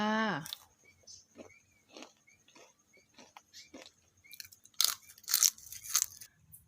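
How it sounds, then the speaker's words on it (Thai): Crisp crunches of barbecue-flavoured fried banana chips being bitten and chewed, a string of short sharp bursts that grow louder and denser toward the end, close up with no talk. "เดี๋ยวเรามาชิมดูความกรอบนะคะ กรอบอร่อยค่ะ"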